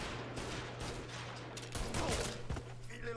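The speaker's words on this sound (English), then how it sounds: "Do me a favor and shoot that guy on the ground." Gunfire from the video game Mafia 3, a dense fusillade of repeated shots crackling fairly close through the whole stretch, loud and steady with no talking over it.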